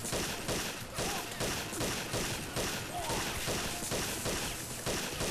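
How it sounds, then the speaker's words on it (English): Rapid repeated gunshots in the video game James Bond 007: Nightfire, a steady rhythmic stream of sharp shots about two to three per second, loud and continuous, with a faint voice underneath. "I'm shooting you in the head and nothing's happening"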